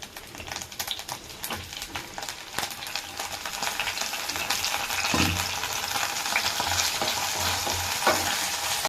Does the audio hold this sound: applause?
no